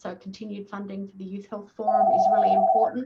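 A mobile phone rings with a steady electronic tone that starts partway through and continues under a woman's ongoing speech.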